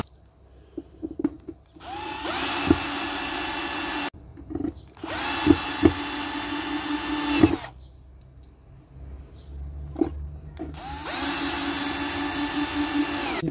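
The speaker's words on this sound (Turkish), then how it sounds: "3 santim uzunluğundaki vidalarla vidalıyorum." A power drill drives 3 cm screws in a caravan interior, spinning up in three separate bursts of a few seconds each, with clicks and handling noises between runs, close by.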